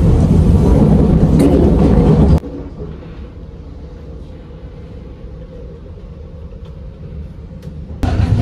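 A train runs on rails with a loud, broad rumble, then drops suddenly to a quieter, muffled steady roar like the inside of a carriage, and swells again at the very end.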